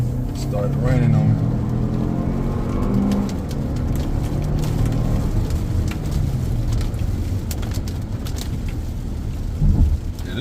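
Rain drums steadily on a 2023 Toyota Highlander XSE truck while it drives, forming a dense, loud wash over the road rumble, with a voice talking over it.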